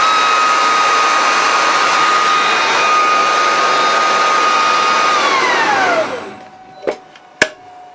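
A table saw motor runs loud and close with a steady whining hum, then is switched off and winds down with a falling pitch, followed by two sharp clicks.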